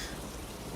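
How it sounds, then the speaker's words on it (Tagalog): Heavy rain falls at night, a dense, even hiss of water across all frequencies, faint and continuous for under a second with no voices. "Lakas ng ulan, oh."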